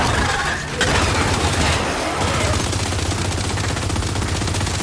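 Sustained automatic gunfire crackles in co-op Gears 5 gameplay, a dense continuous rattle with only a brief dip, under faint voices.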